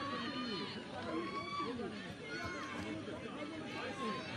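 A Belizean home crowd at a Nations League football match murmurs and chatters in a stadium, a faint steady babble with occasional raised voices and whistles, distant and low in level.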